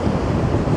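Windy sea waves at Blackpool on a blustery day, a dense, loud, continuous roar of surf mixed with wind buffeting the microphone, no voices heard.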